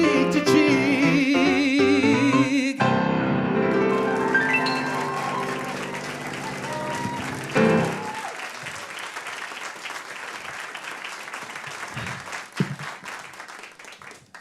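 An audience applauds after a live song at Blue Frog Studios, a broad sustained wash of clapping that rises as the music's final chords cut off, then gradually thins and fades with scattered claps.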